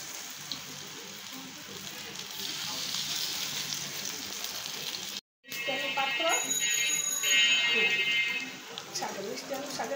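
Sweet potato leaf pakoras sizzling and frying in hot oil, a steady crackling hiss with a brief gap and occasional stirring, while a person talks.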